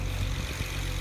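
A BMW 335i E92 engine idles evenly at a steady low rumble, heard close and alone for a brief moment after an intercooler install.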